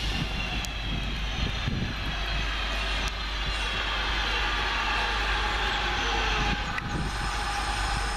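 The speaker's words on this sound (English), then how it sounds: "There it goes, 323-209, heading off into the sidings now." A pair of class 323 electric trains pulls away into the sidings at Longbridge, giving a steady low rumble and hum that carries evenly through the whole stretch, with no voices.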